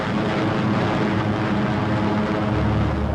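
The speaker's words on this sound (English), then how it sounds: "here are the heavies, giant flying fortresses that drop their tons of high explosives on pinpoint targets" B-17 Flying Fortress heavy bombers in flight, recorded for a 1943 wartime film, give a dense, continuous propeller-engine drone, loud and steady throughout with no voices.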